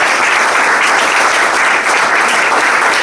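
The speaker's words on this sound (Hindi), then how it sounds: "तो आपके लिए एक जोरदार ताली होनी चाहिए।" Loud, dense audience applause at a business opportunity presentation, sustained and even for the whole stretch with no break.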